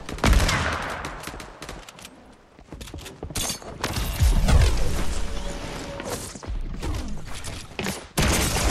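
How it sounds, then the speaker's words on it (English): Heavy sniper fire in a Fortnite desert match: loud, sharp cracks repeat at irregular intervals, mixed with impact smashes and whooshing game effects. "I thought I shot him with my heavy sniper!"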